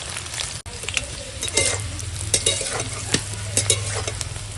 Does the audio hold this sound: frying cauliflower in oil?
yes